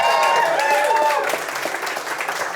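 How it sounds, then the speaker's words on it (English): An audience breaks into loud applause and cheering, dense clapping that eases slightly over a couple of seconds while voices call out. "A little round of applause for that."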